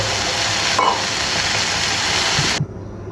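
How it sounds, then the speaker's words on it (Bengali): Potatoes frying in oil in a pan give a loud, steady sizzle that carries on without a break, then drops off abruptly near the end, leaving only a faint background hum. "এখন আমি আলু বেজে নিব"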